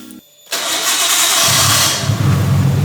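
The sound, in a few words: engine starting up after repairs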